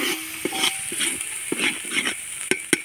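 Masala of onion, coconut and mint roasting in a pan over a wood-fired stove outdoors, soft sizzling with scattered stirring scrapes and sharp utensil clicks.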